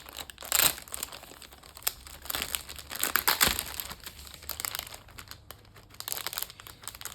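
Plastic packaging of a cross-stitch kit crinkles and crackles up close as it is opened, with a sharp burst near the start and another mid-way, then softer rustling; no one speaks.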